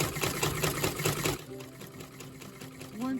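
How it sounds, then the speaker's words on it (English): A treadle-driven Singer class 15 sewing machine winds a bobbin with a rapid, rhythmic mechanical whir that slows and fades midway, leaving faint clicks, while someone talks over it. "you'll see how that winds that bobbin nicely from end to end."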